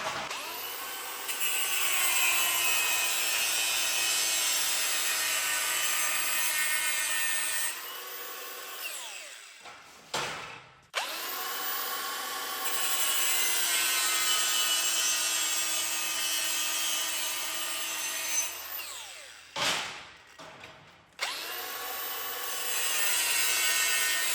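Wood being cut by hand with a hand saw, mitre and straight cuts made in turn: steady, close rasping strokes run in long continuous bursts, broken by two short pauses where the saw is reset before sawing resumes.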